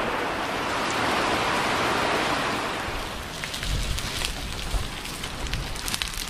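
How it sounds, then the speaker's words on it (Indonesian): Rain pours steadily over a sheltered hut where birds are being grilled, a dense, even hiss that later thins into scattered patters and drips, with no voices. "Sekarang malah turun hujan ya"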